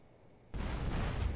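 A sudden loud explosion in the GTA San Andreas zombie mod, a deep booming blast that erupts after a quiet lull and rumbles on.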